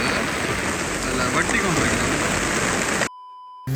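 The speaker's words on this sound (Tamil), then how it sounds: "யாழ்ப்பாணம் ஃபுல்லாக பலத்த மழை பெய்து கொண்டிருக்குது" Heavy rain pouring down in Jaffna, Sri Lanka, during a windy storm, a dense steady roar of rainfall close by that cuts off abruptly near the end, leaving a faint tone; a voice speaks briefly.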